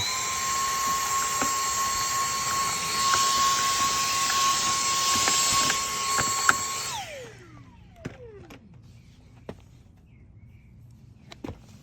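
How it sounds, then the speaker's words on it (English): A power drill whines steadily at high speed for several seconds drilling a hole during a Razor E200/E300 rear suspension installation, then winds down, followed by a few scattered clicks and knocks in a quiet room. "So what we're gonna do is drill another hole"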